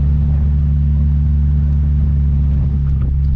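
Mitsubishi Lancer Evo 6 rumbling along a potholed dirt road, a steady, loud low engine and road drone filling the whole stretch, with faint rattles and knocks from the uneven surface and no voices.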